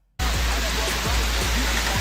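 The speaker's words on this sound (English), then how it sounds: "Yo, look, it's hailing." Hail falling outside in a dense, loud, steady hiss of pellets striking surfaces close by, starting abruptly after a brief moment of quiet, with a few low thumps under it.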